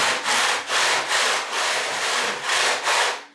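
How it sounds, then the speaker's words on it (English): Steady rhythmic sanding of wood on a 30-foot radius dish, a rasping back-and-forth scrub repeated about eight times, close and loud with no talking. "I'm just going to go ahead and radius it by sanding it down."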